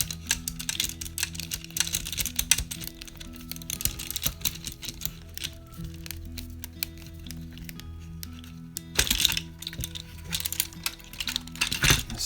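Screws being tightened by hand on a Tamiya Monster Beetle model kit's front axle, making close, small clicking and scratching handling noises in irregular bursts, with nobody talking.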